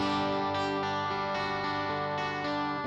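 Sustained electric guitar tone shaped by a Line 6 POD HD500 amp modeler, a thick chorused, lightly distorted chord ringing steadily for a few seconds, close and loud with no voice over it.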